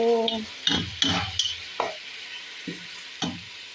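Vegetables for pinakbet are stirred and sautéed in a pan, giving a close, steady sizzle with several sharp scraping strokes of the utensil against the pan, and no talk.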